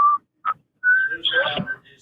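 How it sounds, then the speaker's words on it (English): A man whistles a short, halting tune in a podcast studio, clear close whistled notes with gaps between phrases, followed by a brief burst of voice at the end. "You like my whistling?"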